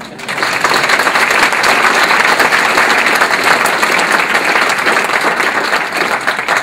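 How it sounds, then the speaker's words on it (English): A town hall audience bursts into loud, dense applause that holds steady and sustained throughout, with a faint murmur of crowd voices mixed in. "So give John a round of applause"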